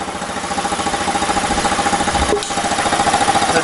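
A GY6-swapped Honda Ruckus scooter engine idles steadily up close after starting, a low rhythmic putter with a brief dip in level midway, no talking.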